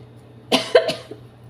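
A person coughs a few times in quick succession, close by, from the fumes of chilies being roasted during cooking, with a quiet background.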